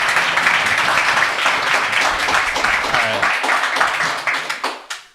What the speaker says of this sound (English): Everybody give Gerald a round of applause.